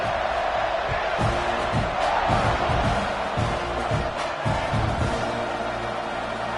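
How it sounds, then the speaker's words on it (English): A college football stadium crowd roars and buzzes after a touchdown, with a dense, loud, continuous murmur broken by scattered shouts and claps throughout. "this crowd is buzzing after that last score"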